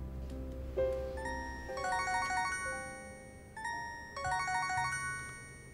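A phone ringtone plays a bright, repeating electronic melody in two loud phrases, with no talking.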